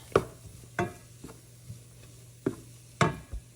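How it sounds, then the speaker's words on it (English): Butter melts in a pan with cooked ground beef and onion, a soft sizzle under several distinct scraping stirs at irregular intervals, close and fairly quiet with no talking. "Then we're going to add 3 tablespoons of butter. All right, mix that up and let that melt."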